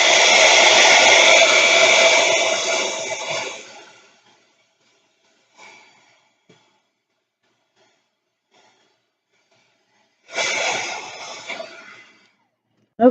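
A hair dryer blows on craft pieces, a loud steady roar for about four seconds that winds down, then a long quiet gap with faint handling before the dryer starts again for a couple of seconds.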